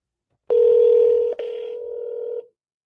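A phone dials out for a voice AI receptionist demo line with a steady, loud tone that breaks briefly partway through, then carries on a little quieter before stopping, heard alone.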